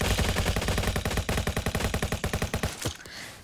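Automatic gunfire in the Roblox Jailbreak game rattles in a loud, fast, steady stream of shots for about three seconds, then stops with one last crack and a short fading tail.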